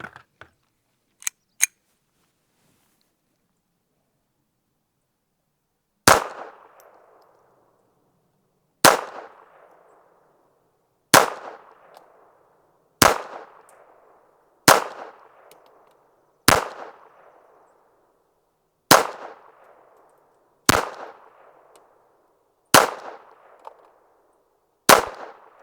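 A Retay Arms RXP 22 rifle firing Federal high velocity match .22 LR ammunition: after a couple of light clicks, about ten sharp cracks ring out at irregular intervals of two to three seconds, each with a short decaying tail, loud and close, with no talking.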